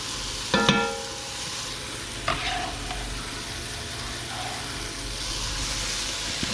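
Onions and celery sizzle steadily in hot oil in a pan for short ribs. A few sharp clinks and stirring knocks of a utensil break over the constant frying hiss, close up and with no talk.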